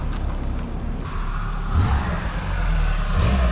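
A car driving in with its engine revving, a low rumbling engine that swells louder in the second half, close and fairly loud, no talking.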